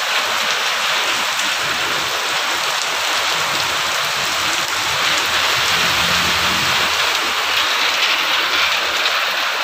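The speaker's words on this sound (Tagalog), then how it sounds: "Lakas talaga ng ulan." Heavy rain pounds down in a loud, dense, unbroken roar, steady and close throughout with no voices.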